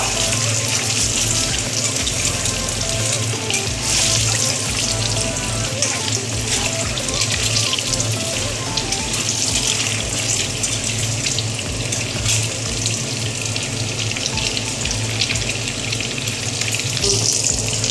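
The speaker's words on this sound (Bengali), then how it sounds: "ডিমটা আমি লাল লাল করে ভাজা করে নিব।" Loud, steady sizzling and crackling of eggs with a little turmeric frying in hot oil until reddish-brown, continuous throughout with no pauses.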